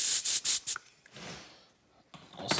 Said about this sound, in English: Then a little shot of compressed air.